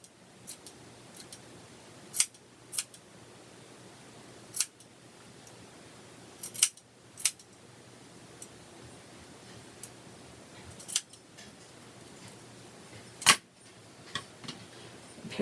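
Scissors snip yarn for pom pom earrings in a quiet room, a series of sharp, close clicks spaced irregularly a second or two apart, about a dozen cuts with no talking.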